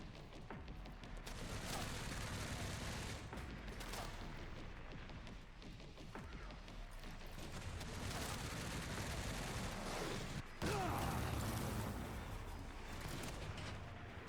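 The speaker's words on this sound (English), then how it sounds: "Too many things are exploding." Explosions in the video game Resident Evil: Requiem, a dense, continuous roar of booms and gunfire-like blasts that stays loud throughout, with a brief drop near the end.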